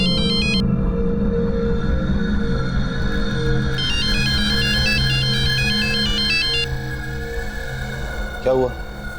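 A mobile phone ringtone plays a repeating electronic melody in bursts, loud and close, over steady background music with people talking, in a crime drama scene.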